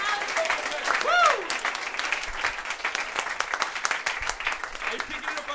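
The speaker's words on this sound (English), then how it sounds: "can we get a round of applause for this super professional man over here?" An audience at a university club meeting breaks into sustained applause and clapping, fairly close, with cheers and whoops rising over it near the start.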